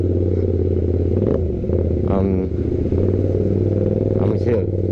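A motorcycle engine revs and rumbles in morning traffic around Kuala Lumpur, with steady low engine drone and a few short throttle blips close by, while a rider talks over it.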